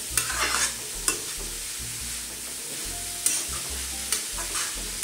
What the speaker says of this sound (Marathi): अशा प्रकारे आपल्याला गाजर मीडियम गॅसवरती छान शिजवून घ्यायचे। 4 ते 5 मिनिटं आपण तुपामध्ये छान शिजवून घेणार आहोत।